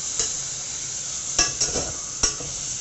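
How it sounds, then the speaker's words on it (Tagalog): A continuous frying hiss comes from pork browning in a pan for ginisaang mongo, broken by several sharp scrapes and clacks as it is stirred, with no one speaking. "Luto tayo pa lang dyan po. Pag-brown lang tayo."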